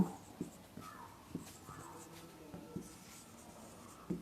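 Writing on a board during a chemistry lecture on surface chemistry, heard as faint, irregular short strokes and taps spread across a few seconds.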